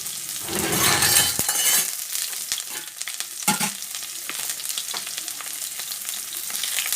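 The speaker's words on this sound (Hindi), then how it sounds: "अब हम इसमें थोड़ा सा प्याज डाल रहे हैं जो हमने चॉप कर लिया था।" Chopped onion dropped into hot oil with cumin seeds in a pan while cooking wheat flour pasta, giving a steady loud sizzle and frying hiss throughout, with a few light clinks of a utensil against the pan and no talking.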